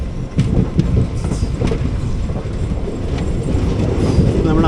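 The 06061 Summer Special Express from Ernakulam Junction to Velankanni, heard from on board: a loud, steady low rumble of wheels on rails with faint clickety-clack beats and no speech.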